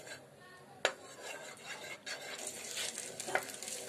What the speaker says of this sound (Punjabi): ਇਹਦੇ ਵਿੱਚ ਪਾਵਾਂਗੇ ਬਟਰ। ਬਟਰ ਨੂੰ ਜਿਹੜਾ ਹਲਕਾ ਜਿਹਾ ਮੈਲਟ ਹੋਣ ਦੇਵਾਂਗੇ।